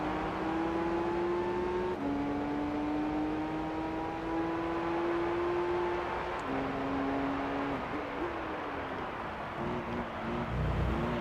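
Nismo 400R engine in Gran Turismo 3 racing at Tokyo Route 246, a steady loud drone with gear-shift drops in pitch, holding high revs throughout without speech.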